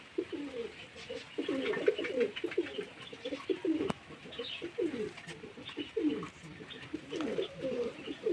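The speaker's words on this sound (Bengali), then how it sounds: "দেখুন পায়রাগুলো দেখুন পুরো ফ্রেশ চকচকে" Domestic pigeons kept and fed at home coo in a steady run of soft, throaty, rolling calls, several birds overlapping close by, with no talk over them.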